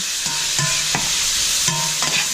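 Onions caramelizing in oil in a pan for pan con bistec, a dense continuous sizzle with rhythmic stirring scrapes, loud and close, with no voices.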